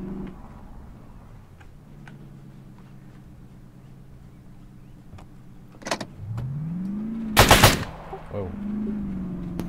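Bursts of gunfire from a video game, a loud burst of a few rapid shots standing out near the end over steady engine drone and a rising vehicle whine.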